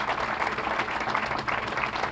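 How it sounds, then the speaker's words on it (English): A crowd at the Saskatoon Central Library groundbreaking bursts into steady applause, many hands clapping together at close range for a couple of seconds. "let's give you a round of applause"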